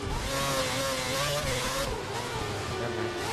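Race car engines rev and whine loudly and continuously in an F1 2011 game at the Monaco Grand Prix, the pitch climbing and falling with no talk over the roar.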